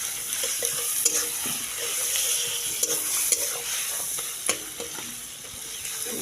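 Oil sizzling in a pan at a picnic cookout as salt and turmeric go in, a constant frying hiss with scattered scrapes and stirring knocks throughout.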